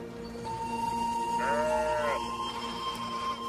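A single sheep bleats once, a wavering nasal call that rises and falls over about a second, heard fairly close above a steady low background hum.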